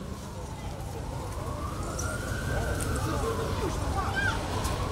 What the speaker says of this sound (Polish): Zróbcie miejsce dla karetki, koniecznie!